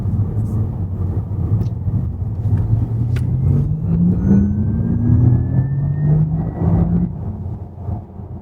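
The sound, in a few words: Porsche Taycan accelerating with electric sport sound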